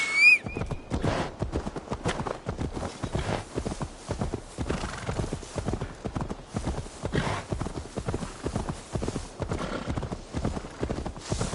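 A horse's hooves clip-clop in steady, quick rhythm in Assassin's Creed Valhalla, moderately quiet and continuous, with a brief whinny at the start.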